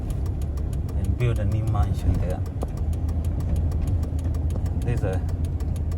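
A garbage truck engine idles on a residential street with a low, steady rumble running throughout, while someone talks over it.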